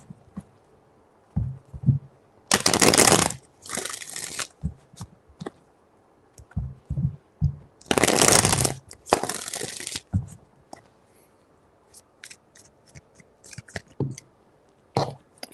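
Tarot cards are shuffled in three bursts, each a loud riffling rush lasting about a second or two, separated by softer taps and handling sounds, with no one speaking.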